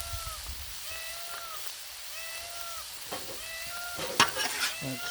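Chili sizzling on a flat griddle while being stirred and scraped, constant frying hiss with spatula scrapes and a few sharper sputters near the end.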